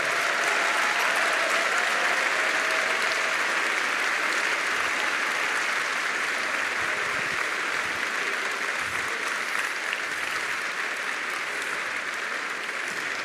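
A crowd at a business school graduation ceremony applauds loudly and continuously, a dense wash of clapping that holds steady throughout.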